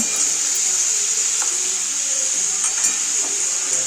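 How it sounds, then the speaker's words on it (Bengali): Cumin paste fries in a pan with a steady, close sizzle and hiss that runs without a break, with faint stirring clicks now and then. "জিরে বাটা আছে সেজন্য একটু ভাজা ভাজা করে নেবো জিরেটা কাঁচা গন্ধ না ছাড়া পর্যন্ত"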